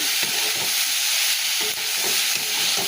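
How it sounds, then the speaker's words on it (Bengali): Chicken frying in a home kitchen pan makes a loud, continuous sizzle close by, broken by soft repeated stirring scrapes at a fairly even pace, with no speech. "চিকেনটা ভাজা বসিয়ে দিয়েছি"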